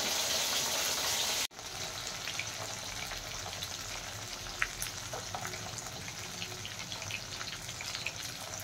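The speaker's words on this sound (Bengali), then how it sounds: "আমার মাছ ভাজা হয়ে এসছে" Phesa fish frying in oil in a pan for a village-style fish curry, a steady dense sizzle that breaks off briefly near the start and then crackles on evenly with small pops.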